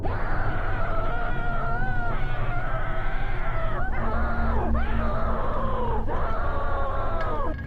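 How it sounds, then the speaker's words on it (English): Several layered screaming sound effects from the end of an animation, overlapping voices wailing continuously and loudly with sliding pitch, dipping and rising again several times without a break. "I'm just not really the biggest fan of the combined screaming at the end."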